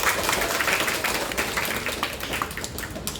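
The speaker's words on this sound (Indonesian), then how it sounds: "Tepuk tangan buat kita semua" A group of students at a school leadership training session in Cisarua, Bogor clap together in a short burst of dense, steady applause, fairly close and loud, with no talking over it.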